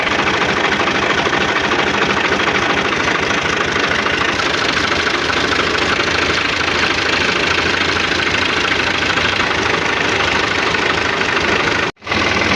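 A tractor engine runs steadily nearby, a loud, continuous chugging idle with knocking character that holds throughout and cuts off sharply near the end.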